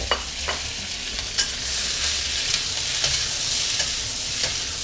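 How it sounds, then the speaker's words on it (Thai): Onion, tomato, carrot and other vegetables stir-fried for a sweet and sour sauce, with a loud continuous sizzle close by and intermittent scrapes and taps of a spatula in the pan. "ผมก็จะคั่วนะครับนะ คั่วผักต่างๆก่อนนะครับ"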